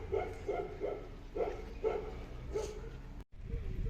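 A dog barks repeatedly in a steady series of short woofs at moderate distance over outdoor background noise, followed by a brief thump.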